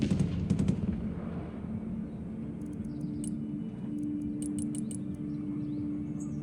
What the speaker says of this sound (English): My artillery over there to the left is taking fire.